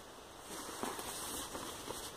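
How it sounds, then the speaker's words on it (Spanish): Soft, steady rain hiss with scattered crackly patter, fairly faint and continuous, like a shower building nearby. "mientras oyes cómo se acerca la lluvia"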